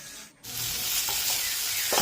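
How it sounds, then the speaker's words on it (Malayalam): Chopped tomatoes sautéing with masala in a hot pan, a close, steady sizzle after a brief drop at the start, with faint stirring scrapes toward the end. "ശേഷം അരിഞ്ഞു വെച്ചിരിക്കുന്ന തക്കാളിപ്പഴവും കൂടെ ചേർത്ത് ഒന്നുകൂടെ വഴറ്റി"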